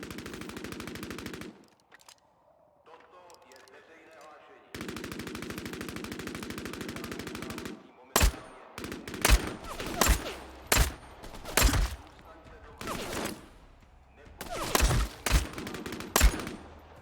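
Rapid automatic gunfire in the vampire battle-royale game Vampire: The Masquerade – Bloodhunt, first as long sustained bursts, then a run of loud separate shots and short volleys, close and dominant with no talking.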